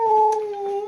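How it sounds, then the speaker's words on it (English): A dog cries in one sustained, wavering howl, close and loud, holding a steady whining pitch for the whole moment with faint background noise behind it. "please forgive my dog crying at me"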